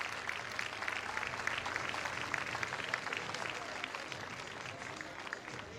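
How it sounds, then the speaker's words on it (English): Faint crowd applause and cheering from the Florida Gators home crowd at a college softball game, a steady, distant clatter of clapping lasting throughout with a broadcast commentator's voice mixed in. "To an ovation from the Gator crowd."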